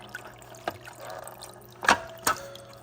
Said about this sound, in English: It's not very loud. Makes a little water noise right there.